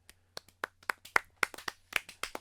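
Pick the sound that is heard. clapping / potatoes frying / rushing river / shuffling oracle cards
clapping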